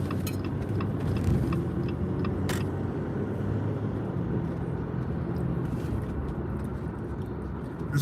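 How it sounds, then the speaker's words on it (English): Road traffic on a freeway leaving Los Angeles, heard from inside a car: a steady low rumble of engine and tire noise, with faint rattles and one brief tick near the start. "There's a lot of traffic, guys, getting out of LA."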